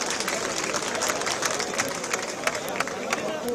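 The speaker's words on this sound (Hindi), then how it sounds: "हमारे तमिलनाडु के स्पीकर के लिए जरा जोर से तालियां" A large crowd at a farmers' parliament gathering in Jantar Mantar applauds for a speaker, steady dense clapping with some cheering and background chatter.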